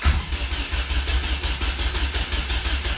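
A car with a swapped Honda K-series engine cranking over on the starter, a loud, rapid rhythmic chugging pulse that repeats steadily throughout, close to the microphone, with no talking.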